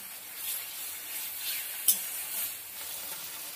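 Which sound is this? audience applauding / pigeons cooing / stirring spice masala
stirring spice masala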